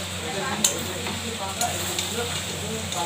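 Pieces of mutton for a biryani sizzle in a hot pan, a steady close frying hiss with a few light clinks of utensil against metal.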